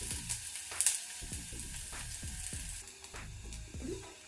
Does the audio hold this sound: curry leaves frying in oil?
yes